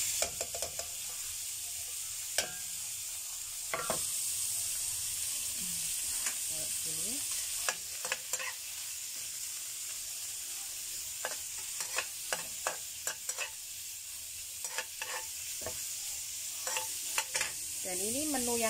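Continuous sizzling and crackling of shrimp frying in hot oil, with occasional scrapes and clinks of a utensil stirring the pan.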